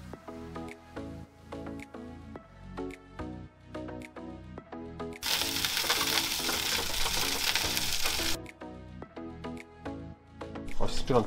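A lamb roast goes onto a hot Weber Baby Q grill and bursts into loud sizzling for about three seconds, rising above steady background music before fading back.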